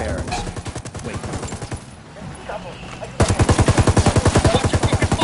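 Gunfire in the video game Ghost Recon Wildlands: close, loud machine gun bursts of rapid, evenly spaced shots, pausing briefly before a heavier burst resumes, with a voice speaking underneath.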